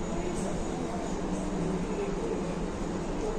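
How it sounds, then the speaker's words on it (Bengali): A metro train approaches a platform in Rome's underground, a steady, loud, unbroken rumble and rolling roar that fills the station for the whole stretch. "এখানে আমার মেট্রোটা আসবে"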